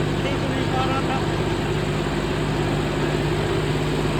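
A John Deere 5405 tractor pulling a rotavator that flattens grass in a field, giving a steady, continuous low engine drone with no break.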